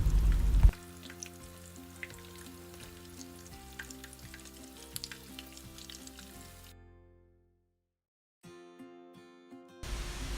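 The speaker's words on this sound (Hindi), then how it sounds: "आलू की टिक्कियों को हाई फ्लेम पर कुक करना है।" Potato cutlets (aloo tikki) coated in egg fry in oil over a high flame, giving a close, continuous crackling sizzle that fades out and then briefly returns.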